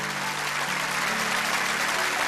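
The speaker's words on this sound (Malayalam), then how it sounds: "നല്ലൊരു കൈയടി സിസ്റ്റർക്ക് കൊടുത്തൂടെ?" An audience in a church applauds for a sister, a dense continuous wash of clapping that stays loud and even from start to finish.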